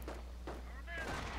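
A 280mm artillery barrage in the Company of Heroes strategy game: a few soft, distant-sounding booms and rumbles spread over a second and a half, partly buried under game noise and a steady low hum.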